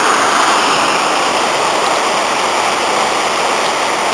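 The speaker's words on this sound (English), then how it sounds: "There's the rapids as they go through the gorge" Loud, constant roar of river rapids rushing through Aberglaslyn gorge fills the air, a dense, close wash of churning whitewater with no pauses.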